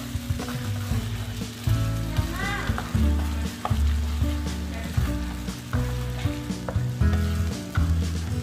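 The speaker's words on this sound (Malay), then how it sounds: "So kita gaulkanlah sehingga ianya sebati." A Thai-style chili dipping sauce with palm sugar sizzles in a pan as it is stirred, giving a continuous loud frying hiss broken by repeated scraping, stirring strokes.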